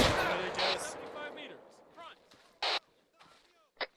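Gunfire in the military game ARMA III, with a few sharp shots and booms fading into echoing reverberation, followed by short bursts of noise, at moderate level with a voice heard at the start.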